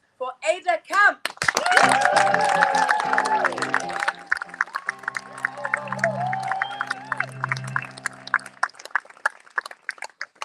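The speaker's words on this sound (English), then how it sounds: "Can we please have a massive round of applause" Audience at a live cabaret-style theatre show bursts into clapping and cheering, a loud crowd roar with dense hand claps running under voices and music, fading into scattered claps toward the end.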